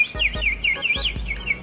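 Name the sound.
person imitating a bird chirping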